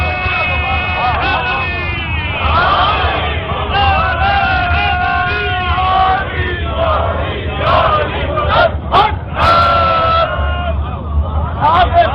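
A large crowd at a Shia majlis chanting a religious naara in unison, loud overlapping voices rising and swelling in repeated waves through a reverberant hall.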